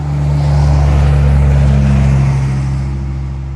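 A 2004 Chevy Silverado idling with a broken exhaust, giving a loud, steady, deep droning rumble up close that swells slightly and then eases off.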